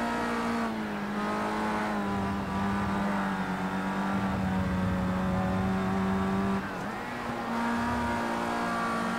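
Race car engines in the Project CARS 2 video game, a loud, sustained tonal engine howl that holds steady, dips briefly as if shifting or braking, then rises again, close and continuous.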